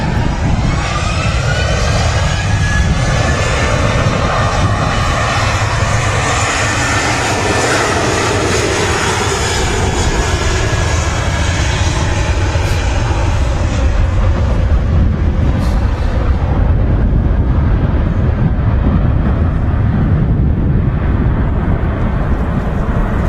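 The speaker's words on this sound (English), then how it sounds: "Ryanair's going to make a rolling start by the looks" A Ryanair Boeing 737 roars through a rolling takeoff at Manchester Airport, a loud, sustained jet engine rumble with a rising whine that fades slightly toward the end, no voices.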